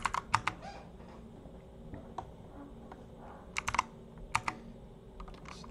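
Linux terminal commands typed on a computer keyboard: quiet, close key clicks in short irregular bursts with pauses between them, and nobody speaking.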